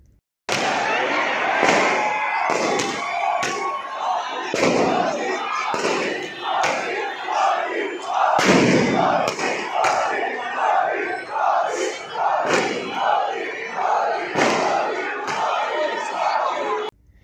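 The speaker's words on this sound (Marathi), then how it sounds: "शहरातील राजकमल चौकात सुद्धा हजारो नागरिकांनी एकच जल्लोष व्यक्त केला" Street crowd celebrating India's Cricket World Cup win at Rajkamal Chowk in Amravati: thousands cheering and shouting in rhythmic bursts, with sharp cracks like firecrackers, loud and close throughout.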